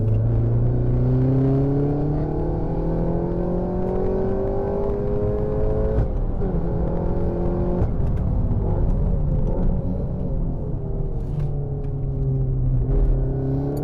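A Peugeot 308 RC model car by Factory runs close by, its motor whirring and rising in pitch as it speeds up, easing off and surging again over a constant rumbling drone.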